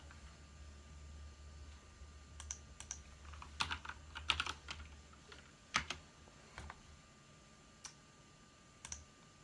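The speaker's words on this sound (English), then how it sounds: "So let's go ahead and do one of those typing tests on here." Typing test on a Ganss GS 87 mechanical keyboard: irregular bursts of crisp key clicks and clacks, close and fairly quiet, with brief pauses between flurries over a steady low hum.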